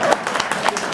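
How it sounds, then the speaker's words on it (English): Audience applause at a prog rock concert in Moscow, a dense, steady wash of clapping from a crowd filling the hall for the whole moment. "More applause."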